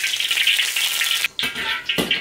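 Oil sizzles hard in a wok over a wood-fired rural stove, a dense steady crackle that cuts out briefly twice, then returns in near, loud bursts, with no talk.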